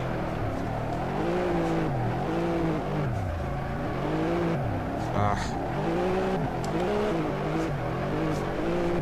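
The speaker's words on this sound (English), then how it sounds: "it's still really revving up, and this is in third gear" A Nissan Skyline engine in the Assetto Corsa racing game revs up and down repeatedly in third gear, rising and falling in regular sweeps with brief tire squeal, loud and close throughout with some talking.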